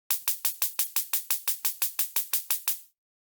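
A hi-hat without transient processing repeats sixteen identical, evenly spaced hits, bright and uniform in level, with no variation between strokes and nothing else playing.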